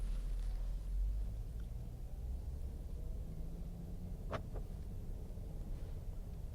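A 2014 Mercedes-Benz E 350 4MATIC drives along with a steady low road and engine rumble, heard from inside the cabin, with a couple of faint brief clicks partway through and no one speaking.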